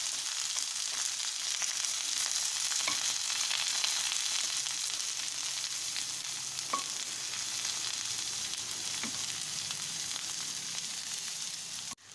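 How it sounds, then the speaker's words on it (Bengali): Chopped onion and vegetables fry in hot oil for sambar, giving a constant close sizzle with occasional faint stirring clicks throughout. "আর পেঁয়াজটা ভাজতে হবে"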